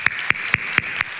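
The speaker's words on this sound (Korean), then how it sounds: "박수로 하나님 앞에 영광을 드려드렸습니다." A church congregation claps in unison during a New Year's Sunday worship service: five sharp, evenly spaced claps sounding together in a steady rhythm.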